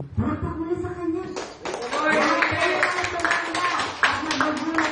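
Congregation applauding during a Filipino church worship service, a dense sustained burst of clapping that swells and holds steady, with voices and a preacher's speech mixed in underneath.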